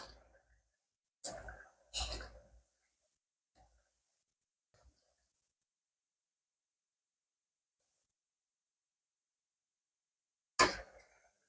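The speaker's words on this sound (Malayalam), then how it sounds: "അതിനിടയ്ക്ക് ചുമ വന്നു" A few sharp coughs close by, two in quick succession and one more after a long silence, with faint small clicks between.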